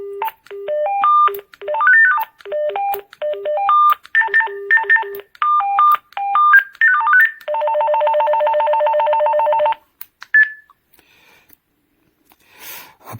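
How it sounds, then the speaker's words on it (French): A string of electronic beeping ringtone melodies from an AWANFI rechargeable walkie-talkie, stepping up and down in pitch, followed by a sustained buzzing trill and a short beep. "Il y a plusieurs sonneries différentes"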